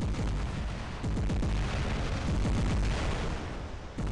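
Continuous heavy weapon fire and booming blasts from robots battling in the mech shooter War Robots, with a Spectre Vortex in action; dense, loud, overlapping impacts run throughout with no pauses.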